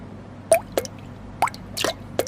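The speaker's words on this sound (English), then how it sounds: "To make red lava, to put red food coloring into the vinegar." Red food coloring drips into vinegar for a homemade erupting volcano: five or six separate wet plops and squishy drips spaced out over a couple of seconds, close and clear against quiet.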